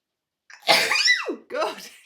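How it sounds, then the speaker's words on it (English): A single close, loud sneeze with a sharp wet burst and a falling tail, then a short breathy exhale or murmur, from a person with an itchy nose. "It's making me sneeze."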